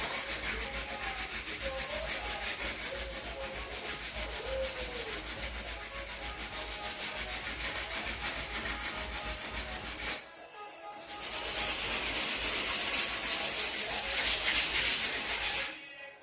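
Sanding of a wooden doorframe rubs back and forth in a steady, continuous scratchy rhythm, briefly pausing near the end before resuming louder and brighter, with no talking.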